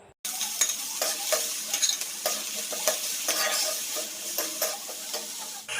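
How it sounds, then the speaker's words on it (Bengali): Onion, green chilli, ginger and garlic frying in oil while a spatula stirs them, giving a continuous sizzle with frequent scraping and tapping strokes up close and no talk. "তারপর এক এক পেঁয়াজ, কাঁচা লঙ্কা, আদা রসুন দিয়ে নেড়ে চেড়ে সামান্য একটু ভেজে নেব"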